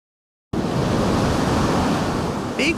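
Large waves crash and roar along the shore of Lake Superior, a continuous loud broadband surf wash that begins abruptly and holds steady, with a brief faint higher tone near the end.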